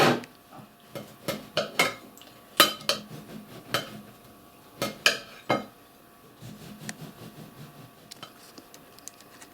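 A knife cuts through a gluten-free gingerbread loaf on a board, giving a cluster of sharp knocks and scraping clatters in the first half, then quieter faint rustling, close by.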